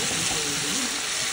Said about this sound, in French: Là, le friture commence.